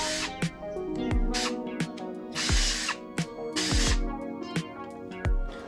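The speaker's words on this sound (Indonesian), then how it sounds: "Ini sisa plat tadi saya buatkan lubang-lubang di sudut-sudutnya untuk penyekrupan nanti." A power drill bores holes in the corners of a leftover steel plate, its motor whining up and winding down in short repeated bursts, close and clear with sharp clicks between runs.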